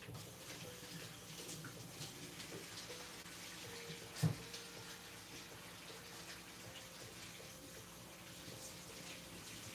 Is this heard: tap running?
yes